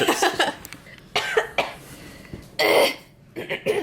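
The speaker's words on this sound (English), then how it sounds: "I'm clearing my throat." A person clears their throat and coughs several times in short bursts, close to the microphone, with brief pauses between.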